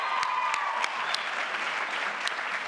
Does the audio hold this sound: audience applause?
yes